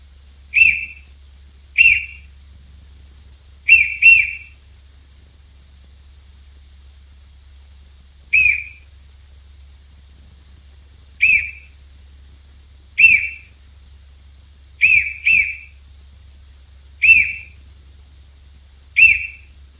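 Short high whistled chirps indoors, single and doubled bursts spaced irregularly across about twenty seconds, clear and close against a quiet low hum.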